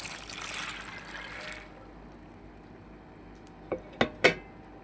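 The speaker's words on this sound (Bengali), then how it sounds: "এখন বুটের ডালগুলো দিয়ে দিব।" Dry chana dal lentils pour into a pot of chicken curry with a soft rattling hiss, then a few sharp clinks of a utensil against the pot ring out close by.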